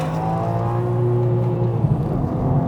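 A 2023 BMW M2's engine climbs in revs with a steady, building drone, under load and close by, with no voices.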